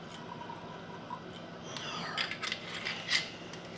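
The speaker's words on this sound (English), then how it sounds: "let's give this a pour" Whiskey trickles and splashes softly into a glass at close range, with a few light clinks near the end; quiet, no talking.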